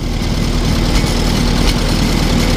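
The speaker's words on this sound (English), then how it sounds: "It's actually a pretty quiet engine" An old farm tractor engine idles steadily and fairly quietly, a constant low mechanical chug with an even, unbroken rhythm and no talk.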